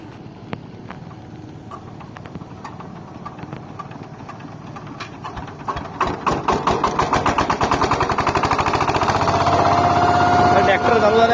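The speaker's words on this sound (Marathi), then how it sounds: "ट्रॅक्टर चालू झालेला, लावणी चिखल करणार ट्रॅक्टर." A tractor engine being started for puddling a flooded paddy field, sputtering and catching, then settling into a loud, fast, steady diesel chug up close, with faint talk early on.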